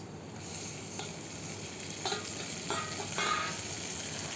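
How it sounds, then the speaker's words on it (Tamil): Onions and tomatoes for mutton kuzhambu sauté in a pressure cooker with a soft, constant sizzle broken by a few spatula scrapes and taps, fairly quiet and without talk. "குக்கர்லேயே நல்லா வதக்கி விடுங்க"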